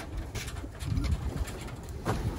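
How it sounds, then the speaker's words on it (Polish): Breeding homing pigeons coo in a loft, low throaty coos repeating at an unhurried pace amid a soft rustling background. "nakarmimy najpierw może rozpłód, gołębie rozpłodowe"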